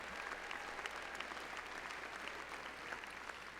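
A graduation audience at the 2019 Marcus High School commencement applauds steadily, a dense, even wash of many hands clapping that holds at a constant level for the whole stretch with no voices over it.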